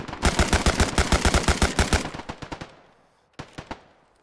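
Squad gunfire in a military assault: a rapid, loud burst of automatic shots for about two seconds, tapering into scattered single shots, a brief lull, then a few more close reports.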